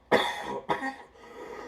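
Two sharp coughs from one person, close and fairly loud, the first stronger and the second a moment later, with a faint tail of room noise afterward and no talking.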